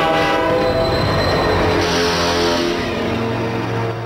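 A cartoon express train's horn blares loud and steady for about four seconds, its layered tones sounding over the rumble of the moving train, with no voices.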